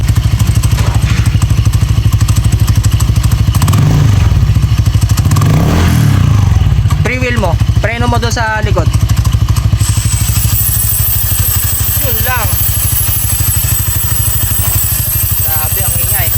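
A motorcycle engine idles loudly up close with a constant metallic rattle from its CVT direct dry clutch, while someone speaks briefly over it.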